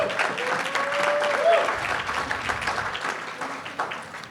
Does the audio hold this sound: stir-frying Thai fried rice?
no